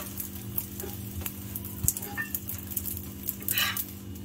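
Obbattu sweet flatbread cooks on a hot pan with a soft, steady sizzle, broken by a few light scrapes and taps as the bread is flipped, close and fairly quiet over a low background hum, with no talking.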